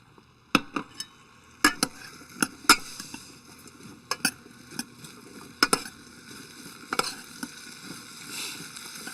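Shallots, potatoes and roasted garlic fry in melted butter in a pan, giving a steady close sizzle broken by sharp clatters of a utensil stirring the pan every second or so. Nobody speaks.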